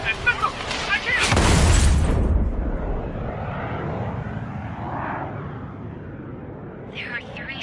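An aircraft in the video game Ace Combat 7 roars past with a loud booming whoosh that swells and then fades into a lingering rumble, with a voice heard near the start and end.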